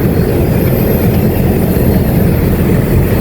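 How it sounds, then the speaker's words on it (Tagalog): The compressor of a Fisher inverter air conditioner, running again after an error code 64 repair, gives a loud, steady low rumbling hum close by, unbroken throughout and with no voices. "Nabuhay natin yung compressor."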